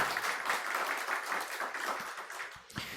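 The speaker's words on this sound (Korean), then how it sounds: "회장님하고 우리 임원들 박수 한번 해주세요." Applause from a church congregation filling the clip, a dense steady wash of many hands clapping at moderate level, tapering off near the end.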